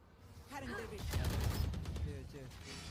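Rapid gunfire bursts in the video game Valorant during a VCT Champions 2024 match, with excited voices talking over the shots throughout.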